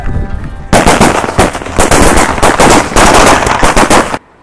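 A jumbo-size string of Sivakasi firecrackers bursts in a rapid, loud, continuous crackle lasting a few seconds, then cuts off abruptly.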